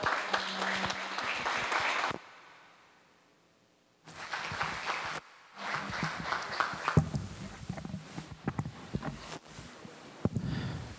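Audience applause at a book presentation comes in bursts of clapping broken by two abrupt silent gaps, with uneven, crackly claps rather than one smooth roar.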